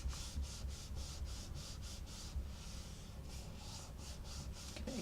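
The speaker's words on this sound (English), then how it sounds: "give it a good rub" Hand rubbing a glued paper pop-and-twist card pressed shut, a fast run of steady, even scraping strokes close by that continues without a break.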